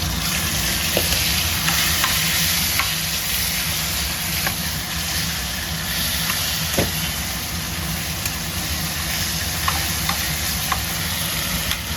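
Boiled taro leaves sit in a hot frying pan with a hilsa fish head, giving a loud, steady frying hiss throughout, with faint, scattered scrapes and taps of stirring and mashing.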